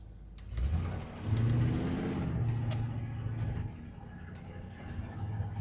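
Chevy C10 pickup truck driving along, its engine rumbling low and steady at close range with a couple of surges in throttle and a soft, unhurried drone.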